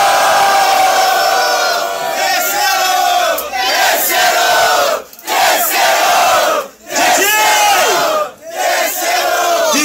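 Loud crowd at a Brazilian rap battle semifinal roars, cheers and shouts continuously, dipping briefly a few times before surging again, with no single voice standing out.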